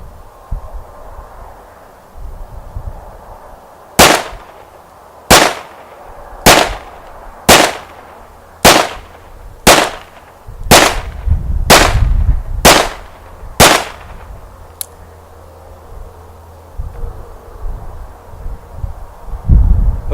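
Ten sharp, loud gunshots at close range from a Ciener .22 conversion kit firing CCI Stinger rounds, spaced roughly a second apart in a steady rhythm with no other sound between them.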